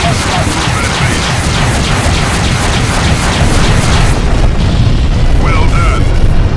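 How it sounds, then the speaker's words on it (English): A ship called the NTC Cato blows up in the space combat game Freespace 2, a loud, sustained roaring detonation rumbling steadily for several seconds before thinning out, with no one talking over it. "The NTC Cato has been destroyed."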